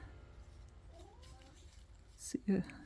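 A house cat gives a short meow or two near the end, close and fairly clear, after a stretch of quiet room noise.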